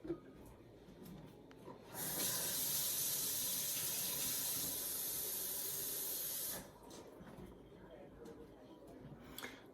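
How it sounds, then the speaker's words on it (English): Warm tap water gushes steadily for several seconds while making mead, a loud broadband hiss that starts and stops abruptly, with quieter room noise before and after. "put some water in it, some warm tap water"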